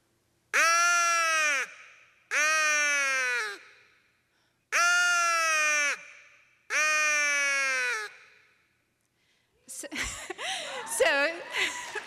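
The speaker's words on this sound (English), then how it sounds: "crow assembly call." Recorded crow assembly call played to a convocation audience: four loud, harsh drawn-out caws in steady succession, each about a second long, followed by a burst of mixed chattering calls.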